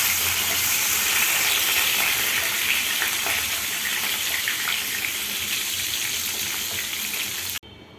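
Pointed gourd (parwal) frying in a pan, a dense, steady hiss and crackle of hot oil, close and continuous, cutting off abruptly near the end.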